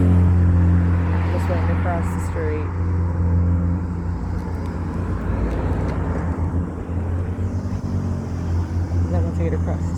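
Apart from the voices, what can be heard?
street traffic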